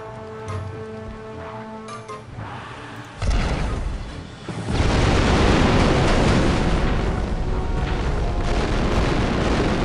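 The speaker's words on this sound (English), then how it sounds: "I'm gonna hit someone with my rocket launcher" Rocket launcher blasts in the Star Wars: Republic Commando video game: a sudden loud boom, then a second heavier explosion that rolls into a sustained roaring rumble.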